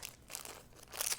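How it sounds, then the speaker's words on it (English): Clip-on earrings being pulled from crinkly packaging, with a few quiet bursts of crumpling and crinkling that build to a louder rustle near the end. "let me get her out of the packaging"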